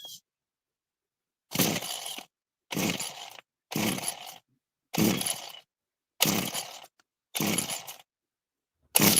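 Someone tries to start a small engine with the choke on. It gives about seven short, sputtering bursts of cranking at fairly even intervals, separated by silence, and never settles into a steady run.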